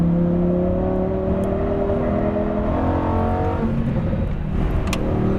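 Exotic GT race car on a track at full throttle, its engine howling loud and close as it winds up through rising revs before the pitch drops and climbs again near the end.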